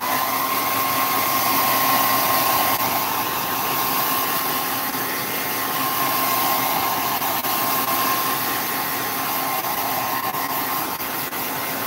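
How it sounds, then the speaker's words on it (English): A blow dryer runs steadily and close by, a loud continuous whooshing hum with a faint whine that holds almost unchanged throughout, with no voices. "Back to the blow dryer."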